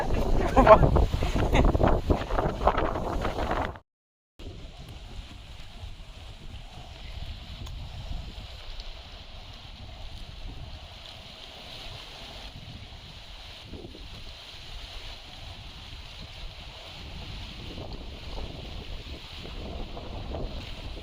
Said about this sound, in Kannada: ಗಾಳಿ ಭಾಳ ಐತಿ